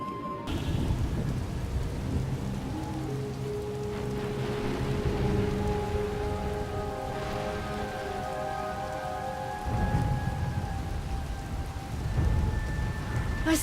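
Heavy rain pours steadily on surfaces during a thunderstorm in the Star Wars: The Old Republic video game, with low rumbles of thunder rolling underneath and a sustained tonal musical drone layered over the downpour.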